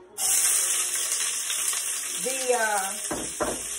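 A steady, bright sizzle of onions frying in a hot skillet, with a brief voice and a couple of clinks near the end.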